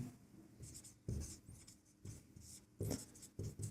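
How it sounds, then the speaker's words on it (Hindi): Pen writing on paper while working a geometry problem, with close scratchy strokes coming in bursts separated by short pauses, sometimes sharp and sometimes soft, and no talking. "तो यहाँ पर हम लिखेंगे हल।"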